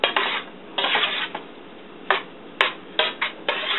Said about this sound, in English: stir it around, mix it real good